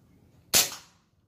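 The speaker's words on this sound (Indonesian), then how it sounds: "Suara hentakan senapan." FX Impact air rifle giving one sharp, close crack that cuts off quickly into silence, with no talk.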